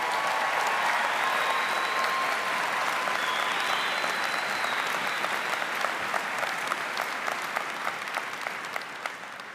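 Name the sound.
audience applause at commencement ceremony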